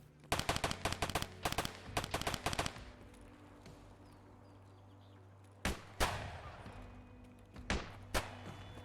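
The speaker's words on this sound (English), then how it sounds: "Someone's shooting me." Gunfire in the shooter game Escape from Tarkov: rapid bursts of loud automatic shots over the first few seconds, then a quiet stretch broken by several more sharp single shots near the end.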